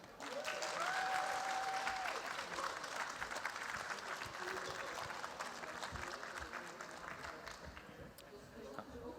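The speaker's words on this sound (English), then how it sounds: "very warm applause" Warm, sustained applause from a festival audience at Castlefest, dense clapping with a few cheers early on, continuing steadily and tapering slightly toward the end.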